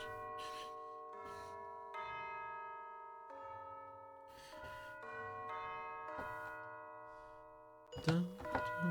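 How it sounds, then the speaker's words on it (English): Synthesized bell tones ring in a self-composed music piece, a series of struck chimes with long sustained decays repeating over about nine seconds, ending in a denser, louder cluster of hits. "Some of these two bells are wild."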